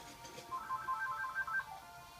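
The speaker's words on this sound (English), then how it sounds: "the phone is going off" Mobile phone ringtone going off nearby, a short repeating electronic melody of bright tones, fairly faint over a quiet room.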